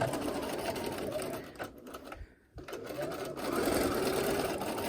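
A sewing machine runs continuously while stitching a fabric face mask with a filter pocket, a close, steady mechanical hum with a brief dip as it slows and then resumes.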